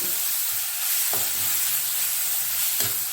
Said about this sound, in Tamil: இதை போட்டுட்டு நல்லா வதக்கணும்.